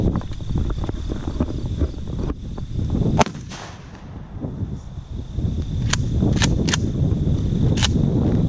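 A Remington 870 pump shotgun fires a 3.5 inch magnum shell loaded with steel pellets outdoors: one sharp, loud blast cuts through steady wind noise, followed by a few lighter clicks and knocks.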